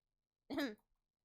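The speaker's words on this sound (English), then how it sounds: "let out a single cough when he realized he was being called" A single short cough or throat-clear sound effect from the Umineko visual novel, close and isolated against silence.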